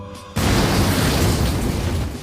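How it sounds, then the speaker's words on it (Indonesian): A bomb strapped to a person detonates in an action film about snipers. A sudden loud blast follows a brief quieter moment, then a dense, sustained roaring rumble that slowly fades. "menemukan satu orang yang sudah dipasangi bom dan saat itu juga langsung meledak"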